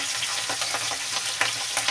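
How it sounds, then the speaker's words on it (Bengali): Chilies crackling in hot oil, a steady close sizzle with small sharp pops, no voices over it. "লঙ্কা দিয়ে দিলাম"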